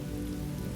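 Steady rain from an immersive thunderstorm ambience falls as a dense, continuous hiss of drops, close and even, with no voices.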